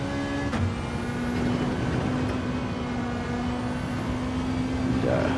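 Super Touring race car at a circuit event, engine note dropping as it downshifts from third to second for a hairpin; loud, continuous engine roar with a steady whine.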